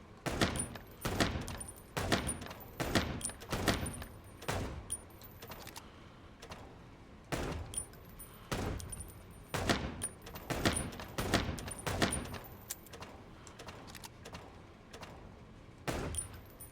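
Sharp gunshots in the detective game Chicken Police, fired in irregular clusters of quick loud cracks separated by short pauses, with brief quiet gaps between volleys.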